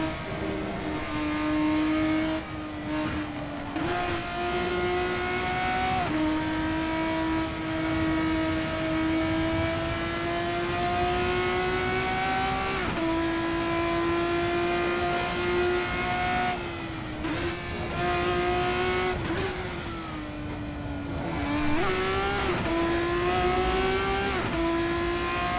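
A race car engine in the sim racing game Assetto Corsa holds a loud, steady howl, its pitch climbing and dropping sharply at each gear change, heard alone with no talk.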